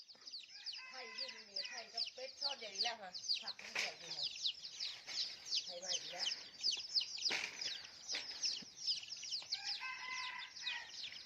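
Turkey chicks and chickens at a rural garden farm make a busy mix of high peeping chirps and clucks that go on throughout, with occasional wing flaps. A person talks faintly beneath the birds.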